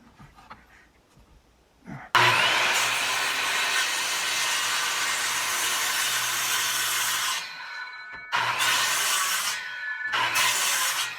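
A power saw cuts wood for a mortise and tenon workbench, giving a loud, steady, high-pitched whine that runs about five seconds, briefly stops, then cuts again in two shorter bursts.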